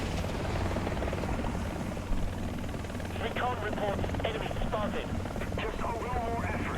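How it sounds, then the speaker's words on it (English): Helicopter rotor in the War Thunder video game, a continuous low rhythmic thudding drone at moderate distance, with someone talking over it for much of the stretch. "looks like some kind of helicopter"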